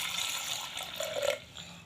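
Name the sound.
water poured into pot for drumstick soup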